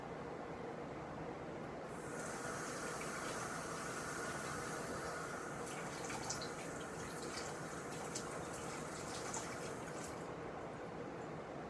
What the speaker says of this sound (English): then I'm going to fill it the rest of the way with warm water and shake it up.